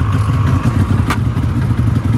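A Subaru car engine idles as it warms up outdoors on a cold day, a loud, close, steady low rumble with a slight rhythmic pulse and a faint clank partway through.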